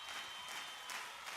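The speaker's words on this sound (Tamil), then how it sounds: "கைதட்டல்களும் அரங்கமே குலுங்கும் அளவுக்கு இருந்தது" Applause and cheering from a crowd filling a hall, a brief, dense, even burst of clapping noise heard on its own.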